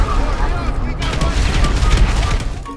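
Dense, loud bursts of gunfire in the video game GTA5, with a shotgun among the weapons, rapid overlapping shots and booms with players' voices shouting over them.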